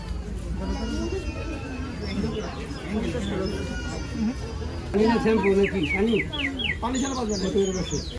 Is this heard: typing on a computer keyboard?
no